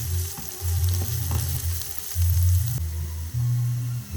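Ginger, green chilli and garlic sautéing in a pan for minced beef with potatoes: a steady close sizzle broken by repeated bursts of stirring and scraping, with no talking.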